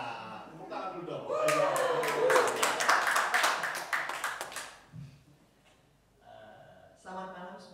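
An audience at an evening community gathering in Indonesia breaks into brisk applause for about three seconds, with voices speaking before and after the clapping.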